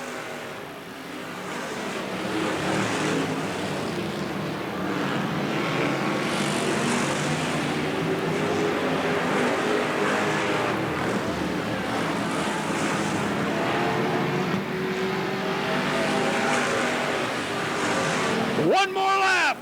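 Sportsman race cars roar around Riverside Speedway during a main event, a loud, continuous engine drone that swells as the field passes, with an announcer talking over it.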